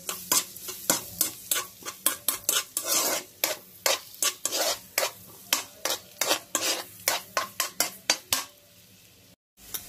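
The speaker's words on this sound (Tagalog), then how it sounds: "Sunod na natin itong ating bawang. Ayan, nagigisa lang natin." Garlic sautés in a pan while a utensil stirs and scrapes it in quick, rhythmic strokes over a constant sizzle, close and clear with no talk.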